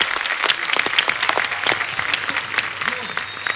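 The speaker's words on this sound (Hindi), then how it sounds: "एक बार जोरदार तालियां" Hearty audience applause on a Hindi TV show, dense steady clapping with crowd noise filling the short stretch, loud and close, with voices faintly mixed in.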